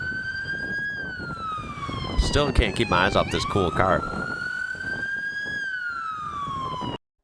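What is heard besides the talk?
UK ambulance siren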